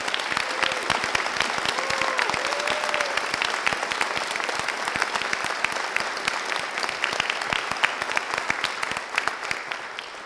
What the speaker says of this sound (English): Would we give a round of applause to all our students?